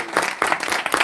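A lecture audience at a talk on the Bhagavatam breaks into a short round of applause, with a few distinct claps standing out above the general patter.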